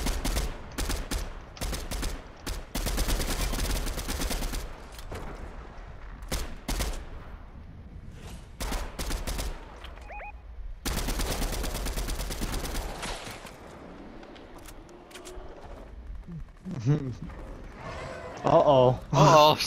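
Rapid bursts of video game gunfire in a squad shooter match, dense volleys of shots coming in clusters with pauses between them, mixed with excited player voices talking over the action.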